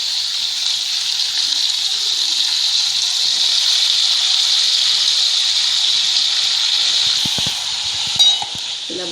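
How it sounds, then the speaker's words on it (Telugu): Salted brinjal pieces go into a hot pan for a ginger brinjal curry, setting off a loud, close, steady sizzle that holds for several seconds, then eases as a few utensil clinks break through near the end. "ఇప్పుడు వంకాయ ముక్కలు వేయాలి"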